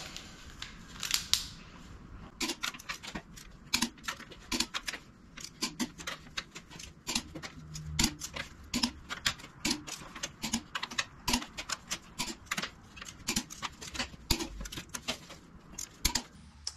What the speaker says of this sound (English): the head is on and all the nuts torqued successfully to 75 foot-pounds